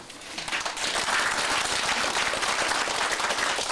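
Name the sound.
audience applause welcoming a speaker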